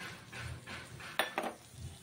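Shrimp are stirred in a cooking pan after fried onion and tomato, giving soft scraping and a couple of sharper metallic clinks, close and fairly quiet.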